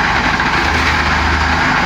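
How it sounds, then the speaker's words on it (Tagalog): A truck engine idles steadily at close range, a loud, constant low rumble with no breaks, while a concrete slab-on-fill is poured for a commercial unit at a Yamaha motor trade site. "Nagbubuhos po tayo ngayon ng slab."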